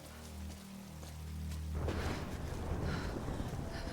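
Steady rain hiss in the video game Tomb Raider sets in after a low hum, a continuous wash of falling drops with no talking.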